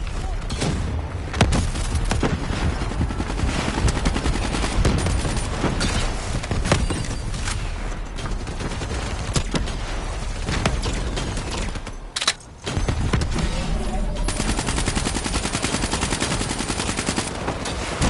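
Sustained, heavy gunfire rages through a Call of Duty: Black Ops 3 campaign battle, with dense automatic bursts and booming impacts. A brief lull comes near the middle before the shooting resumes at full intensity.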